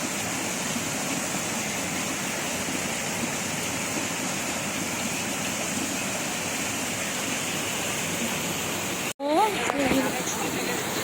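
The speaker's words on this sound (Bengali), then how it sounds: "পানি পড়ছে বাইরে খুব জোরে, মুষলধারে পানি হচ্ছে না বাবা?" Heavy rain pours down outdoors as a dense, even hiss heard from indoors, broken by a sudden knock near the end.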